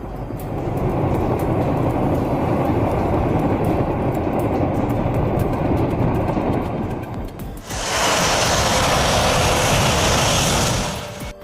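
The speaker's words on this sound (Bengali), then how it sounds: "মিল Mi-26 এটি পৃথিবীর সবচেয়ে বড় হেলিকপ্টার।" A Mil Mi-26, the world's largest helicopter, preparing to lift a Tupolev 134 jet, its loud steady rotor and turbine roar filling the air, then jumping to a harsher, brighter whine for the last few seconds.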